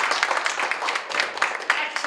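Applause rises from a theatre audience at an improv show. The clapping is dense, steady and crackly and carries on throughout the clip.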